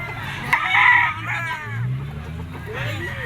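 A Black Spartan gamefowl rooster crows loudly and close by at a pet market, one strained crow followed by a shorter second call, with faint clucking and background noise.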